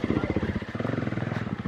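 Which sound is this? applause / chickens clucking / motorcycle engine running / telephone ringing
motorcycle engine running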